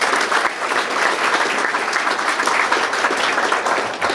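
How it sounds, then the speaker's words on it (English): Audience at a 2019 State of our City address breaks into a steady, dense round of applause, sustained and fairly loud throughout with no pauses. "If we could give him a nice round of applause."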